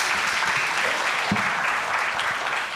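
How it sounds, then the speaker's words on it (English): Steady audience clapping at a public outreach symposium on space research, a dense, even wash of many hands close by, sustained briefly without speech over it. "I heard some claps. You can clap."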